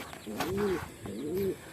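Racing pigeons coo in two rounded, throaty phrases, close by and fairly quiet, with no talk over them.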